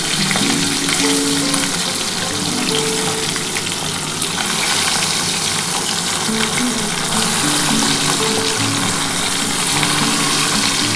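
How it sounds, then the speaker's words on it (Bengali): Pieces of hilsa fish frying in hot oil with mustard-oil style spice cooking, a steady dense sizzle and crackle filling the whole stretch, close and loud with no talk. "ইলিশ মাছ আধ ভাজা করলে যেমন খেতে লাগে আমি সেরকমই ভেজে তুলে নিচ্ছি।"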